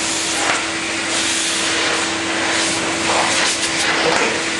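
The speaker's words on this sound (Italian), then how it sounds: "E vedi usa qui, aspirapolvere, prima aspiriamo giù." A Novaltec Pawnee cleaning machine vacuums surfaces while cleaning a pizzeria, giving a steady, loud, airy rushing whoosh that runs without break for the whole stretch.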